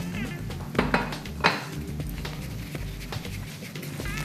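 Large plate handled in a TV kitchen, a few close ceramic clinks and knocks with light cutlery rattles, two sharper hits early, then quieter handling.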